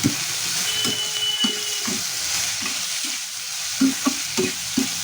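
Potatoes frying in a pan being stirred, with a steady sizzle under repeated scraping and clattering strokes of a spatula, close and fairly loud, with no voices.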